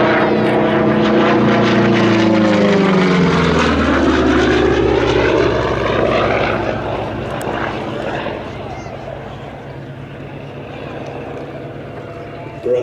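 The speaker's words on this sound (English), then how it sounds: "Runs of that beautiful Pratt & Whitney double wasp engine." A P-47 Thunderbolt with its Pratt & Whitney Double Wasp radial engine roars loud and close during a low airshow display pass, the heavy propeller drone sweeping down in pitch as it passes and then fading into a steady distant rumble, with a commentator talking over it.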